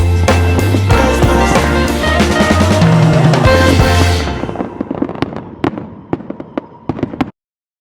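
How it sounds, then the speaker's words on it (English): Fireworks boom and crackle at the Kennebunkport Christmas Prelude festival in Maine, a dense loud barrage that thins after a few seconds into scattered sharp pops before stopping. "The fireworks are still going."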